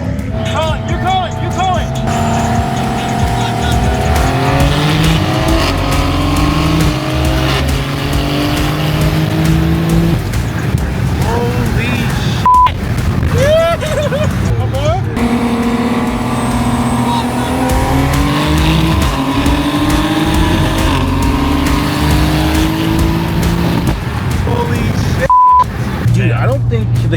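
A 2023 Toyota GR Supra on its stock transmission accelerates hard, its engine note climbing through repeated rising sweeps broken by brief gear-change dips. The sound stays loud and close for the whole run, with voices talking over it.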